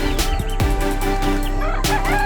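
Loud, close clucking from a large Talisayin chicken over a constant backdrop of other fowl calling, with a couple of sharper cries breaking through.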